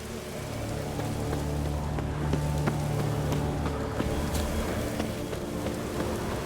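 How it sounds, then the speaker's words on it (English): Rain falls in The Witcher 3 game world, a steady patter on surfaces with scattered louder drops over a low hum of ambient tones, continuous and even throughout with no voices. "Looks like rain."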